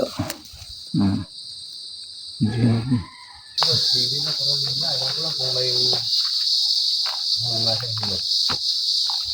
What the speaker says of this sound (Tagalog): Sa amin sa Mindanao ang tawag niyan yung gangis